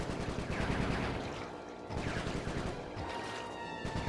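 Gunfire from the Sly 3: Honor Among Thieves video game, with Bentley doing the shooting: dense, rapid bursts of shots in two waves separated by a short lull, at a moderate level with no talk.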